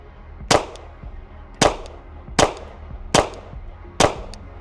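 Five evenly spaced, sharp pistol shots from a Glock 19 with an Aimpoint optic at an outdoor range, each crack loud and close with a short decaying tail, fired at a steady rhythm roughly a second apart.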